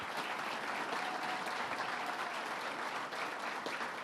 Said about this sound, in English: Stand up and let us give you a round of applause.